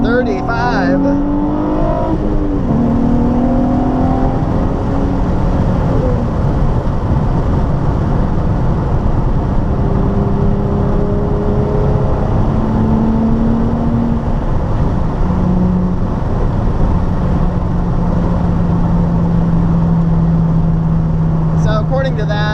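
A Nissan 350Z engine revs hard through gear shifts, each pull a loud rising whine that drops sharply at the shift before climbing again, continuous and close throughout.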